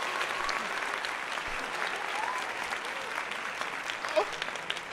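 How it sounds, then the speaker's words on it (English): A fairly faint round of applause from a small live audience, a continuous patter of clapping lasting several seconds with a few sharper claps near the end. "One more round of applause."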